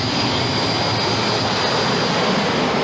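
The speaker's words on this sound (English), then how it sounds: "Hundreds of fighter jets and bombers take part in an all-out effort to destroy NATO's air force on the ground." Soviet fighter jets and bombers roar through massive airstrikes on NATO air bases, a dense, loud, steady wash of jet engine noise with no breaks.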